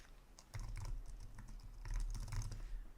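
Quiet, close computer keyboard typing as code is written: quick clusters of soft key clicks in two bursts with brief pauses between them.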